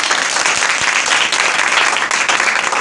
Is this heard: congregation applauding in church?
yes